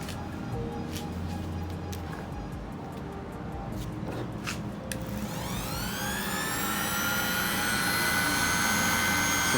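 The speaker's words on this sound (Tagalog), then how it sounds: "Susubukan natin i-sander to" A DeWalt DWE6423 random orbital sander runs on polyurethane-coated pine wood. Its motor spins up midway into a loud, rising, steady whine over a background hum.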